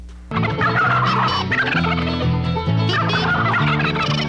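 Turkeys gobbling loudly and close, a continuous chorus of overlapping rattling gobbles from several birds after a brief quiet start, with no talking.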